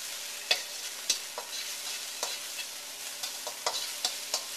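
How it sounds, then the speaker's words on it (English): Ingredients get stir-fried in hot oil for a calamari dish in black bean sauce, a steady sizzle with a spatula scraping and clacking against the pan every half second or so, close by and with no talking. "Stir fry them around a little bit."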